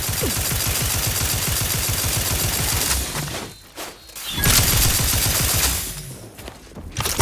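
Rapid automatic gunfire from a firefight in the video game Outer Worlds 2, loud sustained bursts with a brief lull before the shooting resumes, no talk over it.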